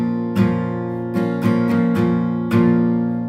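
Slow acoustic guitar strumming of a song's rhythm: a handful of separate, ringing chord strokes at an unhurried, uneven pace, close and clear with no voice.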